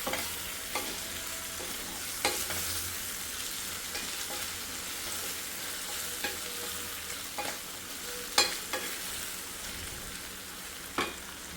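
Cashews fry in a pan with a little salt and chili powder, giving a steady close sizzling hiss throughout, broken by occasional sharp clicks and scrapes of stirring.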